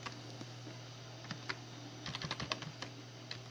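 Someone types an amount on a computer keyboard for payroll entry: a quiet run of light clicking keystrokes, sparse at first and then a quick cluster, over a steady low hum.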